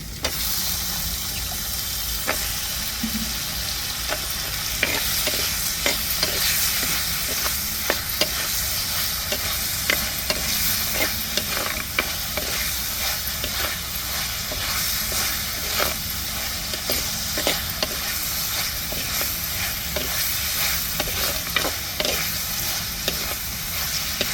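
Eggplant being stirred into a frying pan for a Tamil-style fish curry, with a steady close sizzle and hiss and repeated sharp scrapes and clinks of a spoon against the pan throughout.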